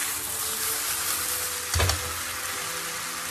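Bell peppers frying in a pan, a dense steady sizzle with a brief low thump and scrape as they are stirred midway, no voices.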